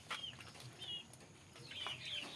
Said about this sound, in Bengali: আর এই যে ছোট্ট ছোট মুরগিগুলো আমার